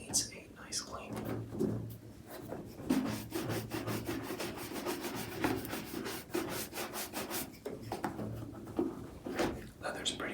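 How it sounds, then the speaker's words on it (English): Brush scrubbing a scuffed leather shoe with a beeswax coating, close rhythmic bristly rubbing strokes repeating steadily throughout, with quiet, soft-spoken talk underneath. "Leather's pretty rugged, so don't be afraid to really get in there with the brush."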